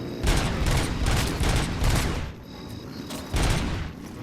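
Rapid bursts of gunfire from Robocop Rogue City, loud and close, firing in several sustained volleys with a brief pause before a final burst.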